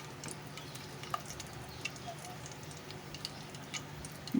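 Whole red chillies fry in hot oil in a pan, giving a faint steady sizzle dotted with small pops and ticks, quiet and close throughout.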